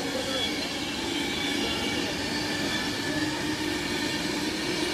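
A Pendolino passenger train passes through Stafford station, a continuous loud roar of wheels on rail with a faint high squeal, heard close from the platform.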